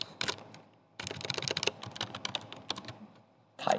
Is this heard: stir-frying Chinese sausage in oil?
no